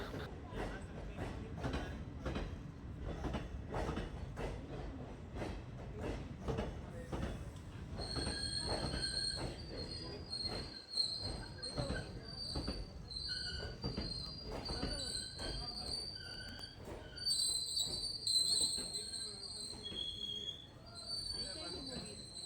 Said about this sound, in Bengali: ফাইনালি আমাদের ট্রেনে উঠে গিয়েছে, আর ট্রেন আমাদের ছেড়ে দিয়েছে